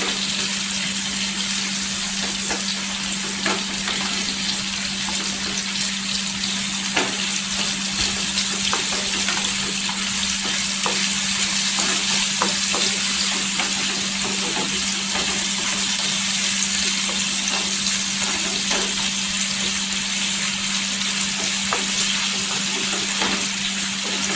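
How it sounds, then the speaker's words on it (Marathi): Pieces of colocasia (arbi) fry in hot oil in a pan, giving a continuous close sizzle with small crackles and pops that runs steadily the whole time, with no voices. "आता इथे 2-3 मिनिटं आहे ना चांगली अशी तेलावर आहे ना छान अशी फ्राय करून घ्यायची"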